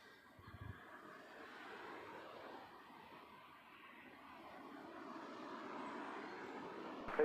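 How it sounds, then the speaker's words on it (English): EgyptAir Airbus A320neo from Cairo arriving at Heathrow, a faint distant jet whine and rumble that slowly grows louder as it approaches, with a brief thump near the start. "Egypt Air bringing in their A320neo from Cairo"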